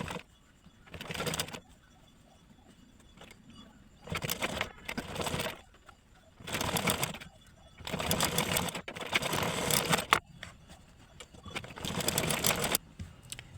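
A domestic sewing machine stitches a cut-work blouse sleeve in repeated short bursts of rapid whirring, each lasting a second or two, separated by quiet pauses.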